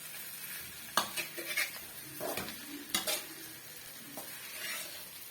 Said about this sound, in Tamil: ஒரு ரெண்டு நிமிஷத்துக்கு நல்லா வந்து மிக்ஸ் பண்ணி கொடுத்துக்கோங்க இந்த மசாலாலாம் இந்த முட்டையில் நல்லா ஒட்டி வரணும்